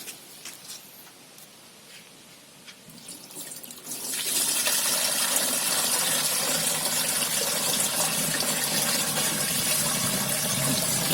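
Water pours into the tank of a Kisan Kraft KK-BBS-318 pressure washer through a strainer, starting as a quiet trickle, then a loud, steady splashing flow for several seconds.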